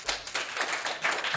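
A podcast soundboard fires off a brief applause effect: dense clapping from a crowd, steady and fairly loud, lasting just over a second with no voices.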